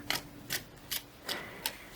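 Thick cardstock tarot cards being shuffled, heard as five soft papery bursts spaced roughly evenly, close and quiet with no talking.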